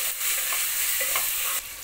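Spices, ginger garlic paste, chopped tomato, bay leaf, mint and coriander sizzle in hot oil as they are stirred in a pan for egg biryani, a steady close frying hiss with scraping stirs and no talking.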